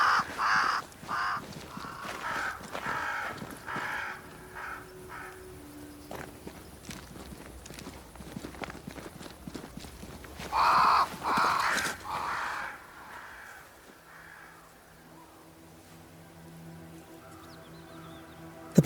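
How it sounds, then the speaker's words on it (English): Crows caw repeatedly in the video game Banishers: Ghosts of New Eden, with scattered harsh calls rising over a bed of footsteps and faint hoof clops, some calls loud and near, others thinner in the distance. "crows. They flock to that great tree up there."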